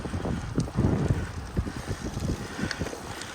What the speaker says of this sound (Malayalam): കാറ്റ് വന്നു തുടങ്ങിയിട്ടുണ്ട്.